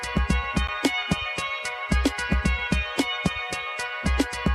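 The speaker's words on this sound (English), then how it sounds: "found a couple of percussive elements which I think complement it really well." Crisp percussion samples tap out a quick, busy rhythm of sharp hits and low thumps layered over a sustained dream-pop guitar lead, all close and upfront with no talking.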